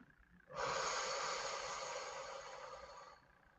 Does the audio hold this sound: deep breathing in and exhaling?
yes